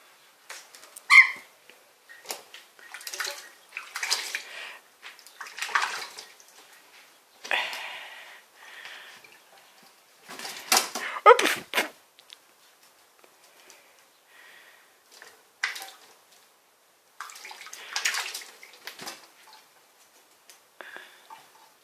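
A magpie bathes in water, throwing out short bursts of splashing and fluttering that come in uneven clusters with quiet gaps between them, heard close and with no one talking.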